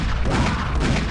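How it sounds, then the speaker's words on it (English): A loud explosion in the video game Quake, a dense sustained blast of roaring low rumble and broadband noise filling the whole second with no talk over it. "Ooh, the explosion killed them all."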